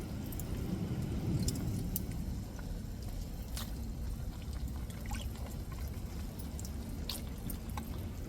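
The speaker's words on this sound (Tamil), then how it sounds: "இப்போ சேர்த்துக்குருவோங்க எல்லா இறாலையும்" Peeled shrimp drop into a simmering prawn curry pot with drumstick and eggplant, giving soft wet squishes and splashes over a steady low bubbling, with a few faint clinks.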